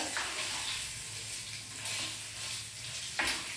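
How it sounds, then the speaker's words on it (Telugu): Curry leaves frying in hot oil for tempering a mango chutney, a close, continuous crackling sizzle with a few brief louder bursts as it spatters. "ఇప్పుడు కరివేపాకు కొద్దిగా అట్లా ఫ్రై చేస్తే కొద్దిగా పోపు వేయాలండి"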